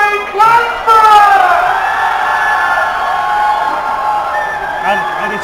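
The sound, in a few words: crowd cheering and applauding the new champions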